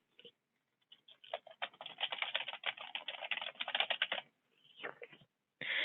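Rapid computer keyboard typing, a dense run of close key clicks with brief pauses, then a few separate bursts of keystrokes near the end, with no voices.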